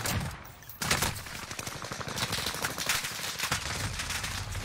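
Gunfire in Call of Duty comes as rapid, continuous bursts of automatic shots at moderate volume, after a brief lull near the start.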